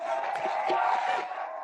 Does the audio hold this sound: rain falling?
no